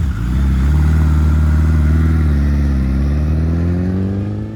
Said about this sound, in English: Suzuki Hayabusa 1350, and it wasn't turbocharged or heavily modified.